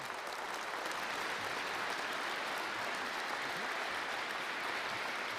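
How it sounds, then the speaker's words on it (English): An awards-ceremony audience applauds in a dense, continuous roar of clapping that holds steady from start to finish, fairly distant and without speech. "it'd be great just to have a big cheer and a clap for everybody"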